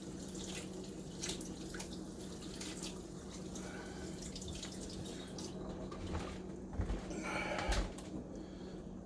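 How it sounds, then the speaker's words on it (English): Kitchen tap water runs steadily over hands being washed at a sink, with soft splashes and a few louder drips and clatters near the end, close and continuous, with no talking. "Wash my hands again."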